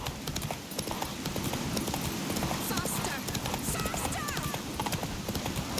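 Galloping hooves of the horse Roach in The Witcher 3, a fast, loud, rhythmic clip-clop close by, with a whinny and game voices above it.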